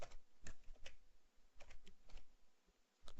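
Typing on a computer keyboard while graphing tangent and cotangent functions, bursts of quick, close key clicks with short pauses between them, quiet and without talk.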